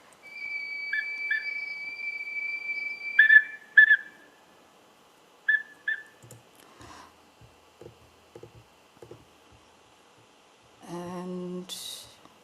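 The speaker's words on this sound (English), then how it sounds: "so with the whistles that were turned into drones" Electronic-sounding whistle tones transformed into drones, held and then stuttering in short repeated blips, give way to quiet pulses and finally a buzzy, sustained drone.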